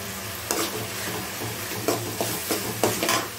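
Asafoetida hits hot oil for tomato rice and sizzles softly while a spoon stirs and scrapes the pan in several distinct strokes, close and fairly quiet, with no talking.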